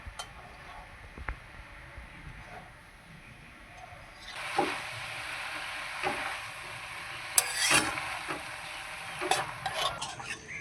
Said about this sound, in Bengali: সবজির সঙ্গে পালং শাকটাকে মিশিয়ে নেব